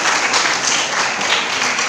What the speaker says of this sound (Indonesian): Ini tepuk tangan semua dulu.